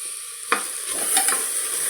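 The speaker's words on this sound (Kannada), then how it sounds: "ಹಸಿ ವಾಸನೆ ಹೋಗೋವರೆಗೂ ಕೂಡ ಸ್ವಲ್ಪ ಚೆನ್ನಾಗಿ ಫ್ರೈ ಮಾಡ್ಕೋಬೇಕು" Ground masala sizzling and frying in a hot pan, with a sharp scrape of stirring near the start and a steady bright hiss continuing close by, no voices.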